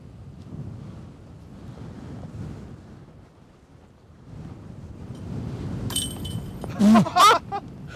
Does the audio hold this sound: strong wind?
yes